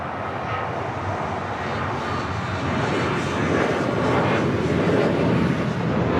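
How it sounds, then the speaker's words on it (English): American Airlines Boeing 737-800 jet taking off at LAX, a loud sustained engine roar that builds steadily over several seconds with broadband rumble and some wind buffeting, no voices. "This is American 1979 taking off to Chicago O'Hare on a 737-800"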